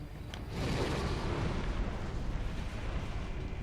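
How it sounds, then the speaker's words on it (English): An explosion in the Batman Arkham Origins video game begins with a brief crack, then swells into a loud, sustained rumbling roar that fills the rest of the clip. "Explosion."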